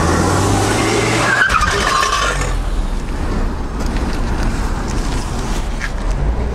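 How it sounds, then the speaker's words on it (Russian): A Renault Duster on a roller traction test spins its wheels, tires squealing and skidding loudly over a revving engine, then the squeal cuts off and the engine keeps droning up close. "Автомобиль Duster с одним колесом, который находился на асфальте, выехал."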